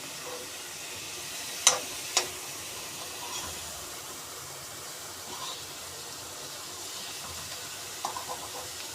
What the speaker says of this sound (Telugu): first Amul బటర్లో first vegetables fry చేసుకుంటున్నారు